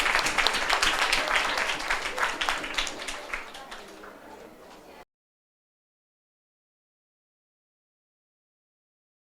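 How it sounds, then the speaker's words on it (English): Students at a school quiz give a round of applause for a winner, a dense burst of clapping that thins out over a few seconds before stopping abruptly into silence. "Let's have a round of applause for her."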